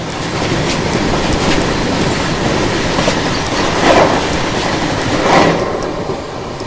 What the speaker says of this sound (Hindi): और ये ट्रैक साउंड यार, आय हाय हाय, जोरदार।